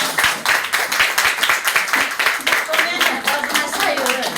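Church congregation at a praise service in Três Rios claps in a steady, fairly loud rhythm, with singing and talk heard underneath throughout.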